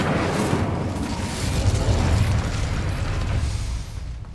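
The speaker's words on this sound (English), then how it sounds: "Incendio!" An Incendio fire spell bursts in Hogwarts Legacy, a single loud whooshing roar of flame that swells and fades over a few seconds.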